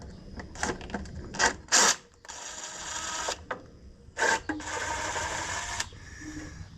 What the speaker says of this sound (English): this job, is what I think these little mini impacts are perfect for